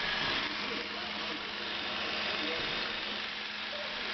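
A Bell & Howell Model A 16mm sound film projector runs with a steady, even mechanical whir and hum, close and continuous for the whole stretch, with no talk over it.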